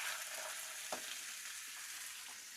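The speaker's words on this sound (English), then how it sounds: "which I'm just going to chuck into a little pan and just cook in some olive oil." Onions cooking in olive oil in a small pan give a steady, even sizzle throughout, with a brief clatter of stirring partway through.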